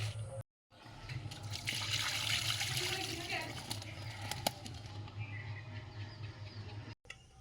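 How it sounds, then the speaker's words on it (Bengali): Small puti fish being washed in water: a steady wash of splashing and running water, close but quiet, with brief gaps of silence. "পুঁটি মাছগুলো সুন্দর করে ধোয়া হয়ে গেল"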